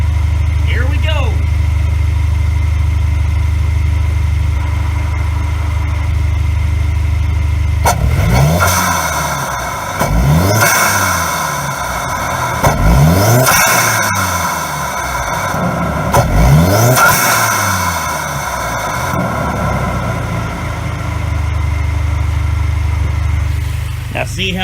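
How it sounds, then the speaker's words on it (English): Cadillac ATS with a performance intake revving repeatedly, turbocharger whine rising on each pull and the factory blow-off valve whooshing as the throttle closes, steady idle between the loud close revs. "Now see how that intake lets you hear the turbocharger much better? It also allows you to hear the factory blow-off valve."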